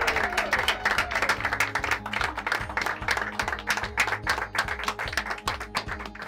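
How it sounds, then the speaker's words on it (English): A school audience claps for a high school teacher being honored, with a steady patter of hands over a low, rhythmic musical backing. "Let's give him a round of applause."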